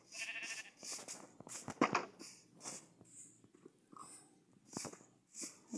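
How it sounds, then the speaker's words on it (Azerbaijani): Sheep in the video game Minecraft give several short, nasal bleats at a moderate distance, spaced irregularly over a quiet game background. "Aha, bir dənə qoyun var."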